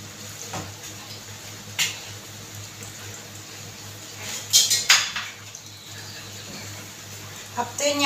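Chicken and pineapple get stirred in a metal pot, the spoon scraping and clinking against the sides in a few sharp bursts over a low steady hum, with someone talking in between.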